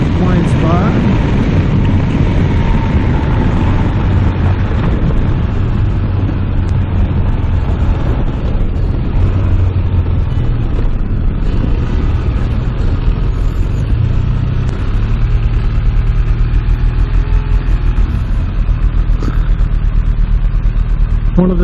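Motorcycle riding through traffic, a constant loud engine rumble mixed with heavy wind buffeting recorded close on the bike, with someone talking over it throughout.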